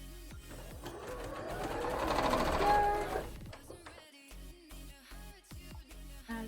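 A sewing machine stitches a tricky curved seam on an Emilia cosplay costume, whirring in a fast, continuous run that builds and then breaks into short, quieter bursts of stitching.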